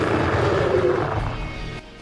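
Combat in StarCraft: Brood War Remastered as a Zerg hive cluster comes under attack: a dense, close wash of thudding impacts and crashes that tails off into quieter rumble.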